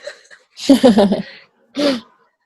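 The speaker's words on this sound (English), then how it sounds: "gonna stop just for a moment because I'm gonna sneeze." A breathy intake leads into a burst of explosive, shaky vocal sound, followed by another short blast, close and loud.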